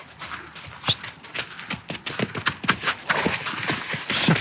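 Several horses shuffle and move about near a fence, hooves clopping in irregular, overlapping bursts of thuds and scuffs at close range, with no talking.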